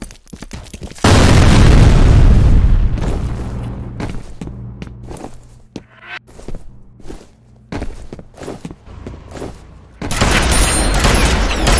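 A grenade explodes in the shooter game F.E.A.R. Combat with a loud booming blast that rumbles and fades, followed by scattered gunfire, footsteps and thuds, then another burst of heavy noise at the end.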